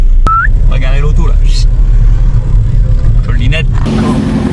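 A car rolls into the parking area of an MXGP motocross event in Ernée, 2025, giving a steady low engine rumble throughout while nearby voices talk over it.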